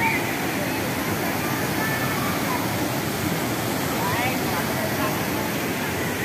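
Steady, dense rushing of a waterfall, a continuous broadband roar with no breaks, fairly close and loud.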